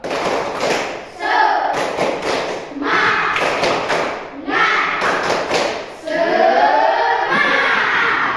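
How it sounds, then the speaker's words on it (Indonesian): Schoolchildren in a classroom perform a rhythmic group clapping routine, bursts of unison claps and thumps alternating with loud chanting voices in a repeating pattern, close and lively. "Mari adik-adik kita sama-sama ya tepuk niatnya ya"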